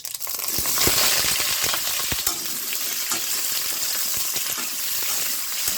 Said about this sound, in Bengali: কড়াইতে তেল দিয়েছি দিচ্ছি জিরে ফোড়ন অল্প একটু শুকনো লঙ্কা তেজপাতা দিয়ে দেবো